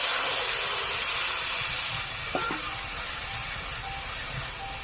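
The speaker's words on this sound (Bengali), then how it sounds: "কড়াইতে দিয়ে দিচ্ছি জল দিয়ে দিচ্ছি কড়াইতে" Water poured into a hot wok on a village clay stove produces a steady, loud steaming hiss that holds throughout, with a few faint clinks partway through and no talk.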